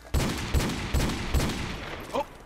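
Gunfire in the video game Modern Warfare Remastered: four evenly spaced loud shots, each with a short booming tail, followed by a brief voice.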